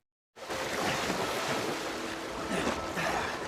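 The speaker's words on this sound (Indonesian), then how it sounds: "sedangkan Yossi dan Kevin meneruskan perjalanan dengan rakit menyusuri sungai." River water rushes around a raft drifting downstream through forest, a steady wash of flowing water mixed with wind buffeting the microphone, beginning abruptly after a short silence.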